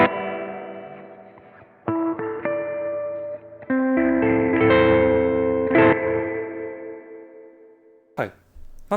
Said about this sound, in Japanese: マックスにするとここまでリバーブがかかる